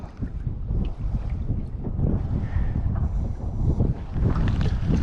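Wind blows across open water near a small boat, a steady rushing rumble with buffeting gusts against the microphone, continuous and fairly loud.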